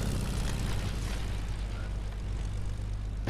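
Propeller airplane drone in the Fortnite video game, a steady broadband engine roar with a low hum running continuously and fairly loud, no speech over it.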